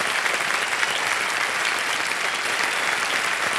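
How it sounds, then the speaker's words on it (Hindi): A studio audience on a televised quiz show claps steadily, a dense, even wash of applause that holds at the same level without voices standing out. "तालियां बजते रहें।"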